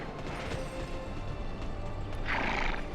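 A horse neighs in the online fantasy game Tera Online. Hoof clip-clops come first, then a loud, shrill whinny rises near the end.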